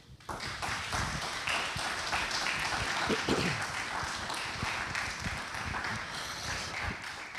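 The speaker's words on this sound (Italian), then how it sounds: "vogliamo salutarli tutti con un forte applauso" An academic philosophy and science conference audience gives sustained, dense clapping to welcome the speakers, steady and fairly loud for about seven seconds with no talk over it.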